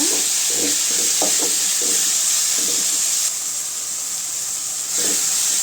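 Brinjal sautéing in a pan for a tamarind curry with okra, a loud steady hiss of frying with a run of spatula knocks and scrapes early on, then mostly sizzle with one more scrape near the end.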